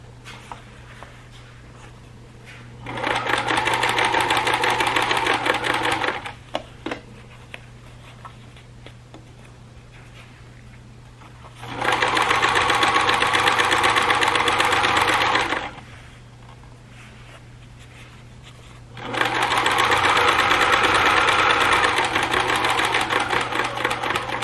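Sewing machine stitching off fabric for a bag made for a wheelchair or walker, three steady runs of rapid mechanical whirring several seconds each, separated by quiet pauses with a low hum.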